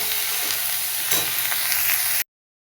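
Pointed gourd peels sizzle in a hot pan with salt and turmeric, a loud, dense, continuous frying hiss broken by soft stirring scrapes, close up, before a sudden cut to silence near the end.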